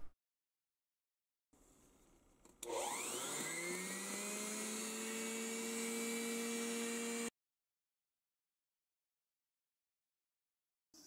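A small electric blower starts up with a rising whine, then runs steadily at a high, droning pitch for several seconds before cutting off into silence.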